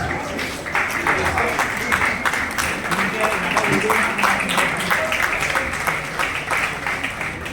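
An audience applauds at Twinkle Khanna's book launch event, with steady dense clapping lasting several seconds and voices talking over it.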